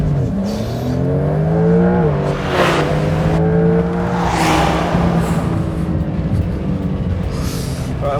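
A 2026 Porsche 911 Turbo S drives past, its engine note rising and falling in a loud, steady drone with harmonic swells as it accelerates, heard alone without talk.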